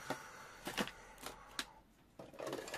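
Quiet, close snips of scissors cutting paper, a few irregular crisp cuts with rustling between them.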